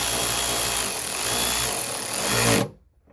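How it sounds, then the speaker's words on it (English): A power ratchet whirs steadily as it snugs screws into the plastic lift gate light housing of a Jeep Grand Cherokee, its motor buzzing close and even before stopping suddenly. "you're using a power ratchet, just be careful not to over tighten these."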